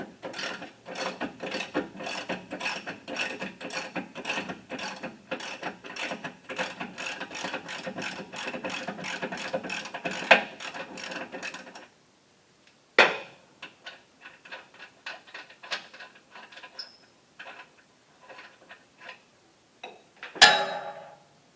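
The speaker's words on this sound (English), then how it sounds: "go ahead and pull the nut off and spin it around. That's a 21 millimeter wrench and socket that you need for the job" A socket wrench ratchets steadily while a 21 mm nut is backed off a Jeep TJ Wrangler oil pan skid plate: dense, rapid clicking for about twelve seconds, then scattered shorter bursts and a sharp final clack, all close and with no talk.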